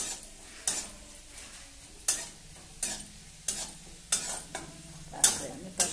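Onions frying in a pan for egg curry, a low continuous sizzle broken by about eight sharp spoon scrapes and clinks at regular intervals, close by.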